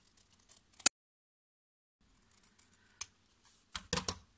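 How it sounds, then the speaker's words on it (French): Scissors snipping off excess paper in a crafting project, a few sharp isolated snips in a quiet room, one crisp cut early then a quick cluster of small clicks near the end. "On coupe ce qui dépasse."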